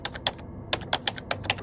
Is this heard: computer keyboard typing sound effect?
yes